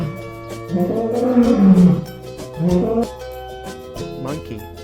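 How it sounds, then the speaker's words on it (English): A lion giving deep, rumbling roars in two or three surging bursts, loud and close, with background music underneath. "lion माने शेर."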